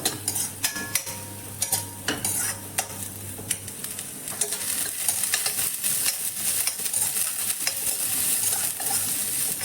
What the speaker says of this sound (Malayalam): ക്യാബേജ് അത് വീണ്ടും വഴറ്റി കൊടുക്കുക